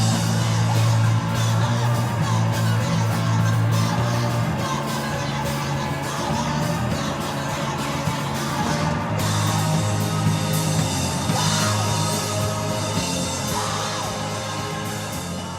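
A punk band plays loud and dense throughout, with a woman screaming over the heavy, distorted instruments.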